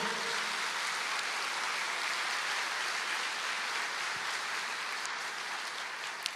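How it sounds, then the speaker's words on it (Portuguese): A church congregation applauding, a dense and even wash of clapping that carries on steadily at a moderate level, with no voices over it. "Você pode aplaudir o Senhor?"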